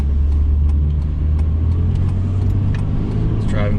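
A supercharged 2002 Toyota Tacoma pickup driving, a loud steady low engine and road rumble from inside the cab, with faint clicks and a brief chime near the end.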